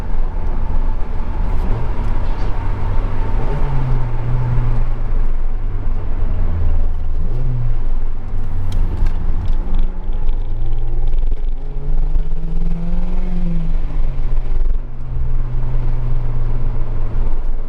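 A small car's engine with a deep, throaty exhaust drones loudly and steadily, its pitch rising and falling through several revs and swells, heard from nearby.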